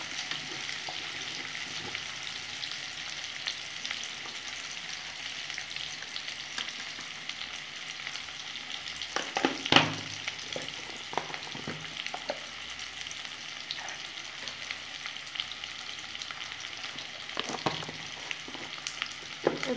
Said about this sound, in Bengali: বন্ধুরা গাজর আর টমেটোগুলো আমি দিয়ে দিচ্ছি। এগুলো আমি ভালো করে একটু ভেজে ভেজে নেবো।